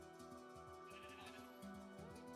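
Repeated bleating from game sheep, several overlapping calls in a steady rhythm over a constant droning background.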